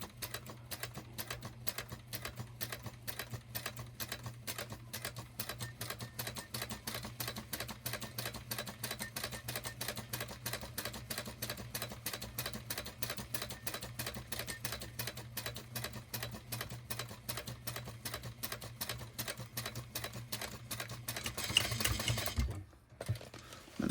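A sewing machine backstitches along a black line on a fabric apron pocket, a fast, steady needle chatter that runs alone and close for most of the stretch before briefly cutting off near the end.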